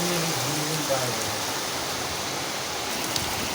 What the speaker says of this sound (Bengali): কি পরিমাণে বৃষ্টি নেমেছে কি জোরে মানে একদম প্রচণ্ড জোরে বৃষ্টি নেমে গেছে